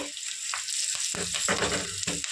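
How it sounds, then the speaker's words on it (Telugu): Green chillies and curry leaves fry in hot oil for a curry-leaf chicken curry, a steady close sizzle with a few sharper crackling bursts and spatters, no voices. "పచ్చిమిరపాయలు ఫ్రై చేసుకున్నాము పచ్చిమిరపాయలు కూడా వేగిపోయినాయి కదా ఇప్పుడు కరివేపాకు వేసుకోవాలి"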